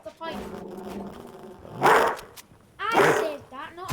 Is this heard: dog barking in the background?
yes